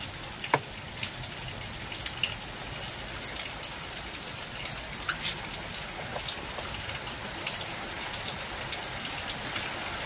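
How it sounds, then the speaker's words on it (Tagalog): Heavy rain pouring down steadily, a dense hiss of drops drumming on surfaces with occasional louder splatters, no voices. "Sobrang lakas po dito ng ulan na naman."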